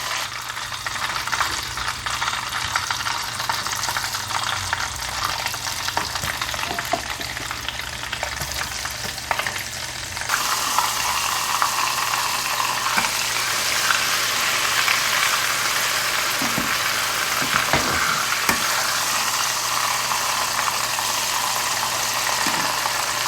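Oil sizzles and crackles steadily as beef fries for crispy chilli beef, a continuous hiss that grows brighter and louder partway through, with occasional small pops.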